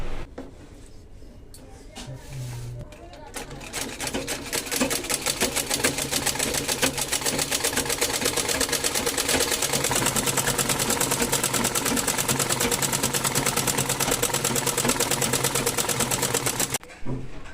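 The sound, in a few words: sewing machine stitching nighties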